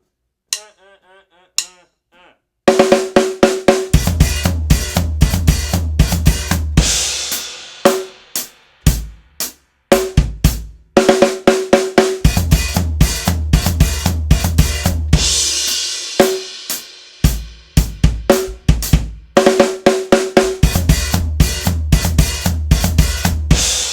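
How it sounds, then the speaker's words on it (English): Snare, hi-hats, floor tom and kick drum play a crossover groove in a close, loud rhythm of sharp repeated hits. After a few quiet taps it runs in two bursts separated by brief gaps. "I'm going to split the rest of it up between the hi-hats,"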